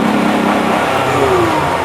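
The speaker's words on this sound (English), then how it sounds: "Hit that rev limiter" A 2009 Kia Spectra engine revs hard near the rev limiter, a loud, sustained close-up drone that climbs in pitch with no talking.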